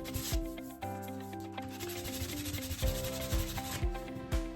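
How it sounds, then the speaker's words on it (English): Rhythmic scratchy rubbing strokes of 180-grit sandpaper on a shaped hand sanding block over wood furniture trim, close up, with brief pauses between passes and a faint steady hum underneath. "I used a shaped sanding block to finish off the trim"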